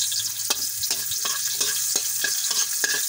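Onion sizzles in a hot pan while a utensil scrapes and stirs it in a quick, regular rhythm of sharp strokes over the steady frying hiss.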